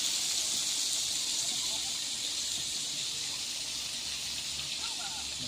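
Flour-battered squid frying in hot oil at a low-cost apartment block, giving a steady, bright sizzling hiss that continues throughout, with people talking faintly underneath.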